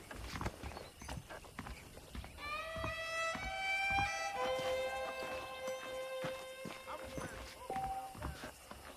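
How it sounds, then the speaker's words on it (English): Horse hooves clip-clop steadily in the Red Dead Redemption video game, moderately loud under sustained tonal music, with speech over the top. "The horses are saddled up over here."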